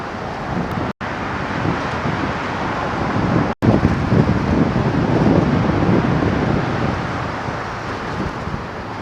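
Wind gusting along a downtown Grand Rapids, Michigan street on a humid evening, a steady broadband rush with mic buffeting and faint traffic beneath, broken by two brief dropouts.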